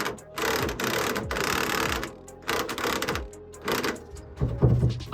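An impact wrench spins a body mount bolt on a Ford E-350/E-250 Econoline van in repeated close, loud rattling bursts separated by short pauses.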